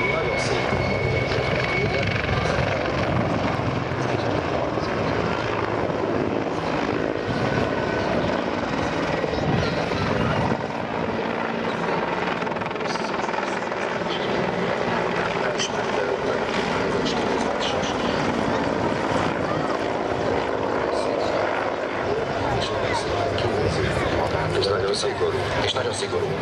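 Mil Mi-24 attack helicopter of the Hungarian Air Force, its rotor thrum and turbine whine a steady, loud roar throughout, with someone talking over it almost the whole time.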